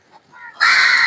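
Crows in a village caw outdoors, faint rising calls giving way to one loud, harsh, sustained caw close by with no talking.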